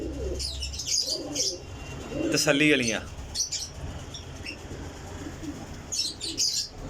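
Kasuri pigeons with red eyes coo and flap their wings at close range, soft warbling coos and brief wing bursts sounding between and under a voice.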